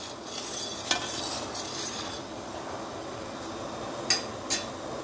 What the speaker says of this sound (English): this is getting to the rapid boil where you can't stir it down